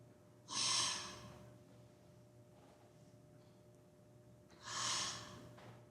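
A person imitates breathing in a quiet room, making two loud, breathy exhalations several seconds apart with near silence between them.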